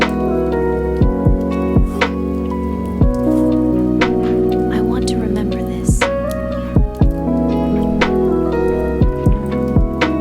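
Rain falling outside a van at night, a dense steady patter with scattered sharper drips, under soft music and a brief spoken line.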